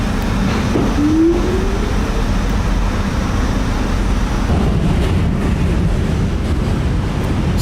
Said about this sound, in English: So we're on the Manhattan Bridge now, and the subway's kind of noisy